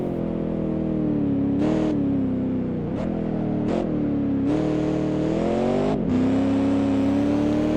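A Gentile Chevrolet V8 prototype race car in a racing video game roars steadily at close range, its tone dipping and climbing through quick gear shifts, with brief hissy bursts between.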